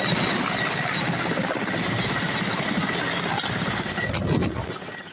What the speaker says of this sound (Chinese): 直升机扑啦扑啦带来气流